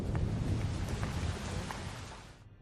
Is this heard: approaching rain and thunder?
yes